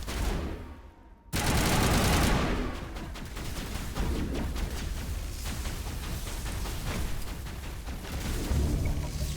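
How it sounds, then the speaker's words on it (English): Video game gunfire in Mass Effect Legendary Edition: a sharp onset after a brief lull, then sustained rapid bursts of shots rattling on for several seconds, loud and dense with no talk over them. "Open fire! Fire was definitely opened."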